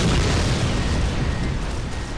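Plasma shot explosion in the 2001 PC game Aliens vs Predator 2: a loud, dense burst of booming, rumbling noise that holds steady for about two seconds.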